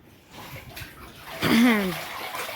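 Water sloshing and splashing while a water drum is washed out, a brief close splash surge under a child's and adult's voices talking.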